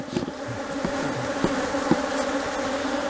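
Honeybees buzz steadily around an open hive during a honey-harvest inspection of super-strong colonies, a dense, continuous drone with a few louder individual bees passing close by.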